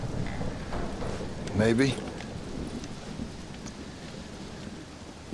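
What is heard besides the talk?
thunderstorm with rain in video game Red Dead Redemption Undead Nightmare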